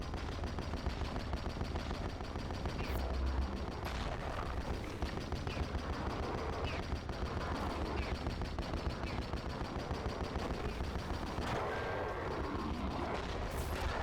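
Rapid, continuous gunfire fills the arena of TENET, a Devil Daggers-like shooter, a dense loud stream of shots with occasional heavier blasts and no pauses.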